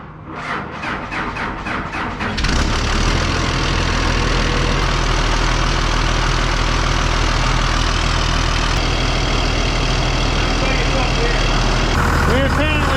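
A 5.9 Cummins diesel engine on a Hagie sprayer cranks over briefly, then catches and runs with a loud, steady, close rumble that carries on unbroken.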